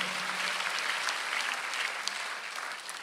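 Church congregation applauding during a Korean Sunday worship service, a steady dense clapping that fills the whole stretch at even loudness, with no talk over it.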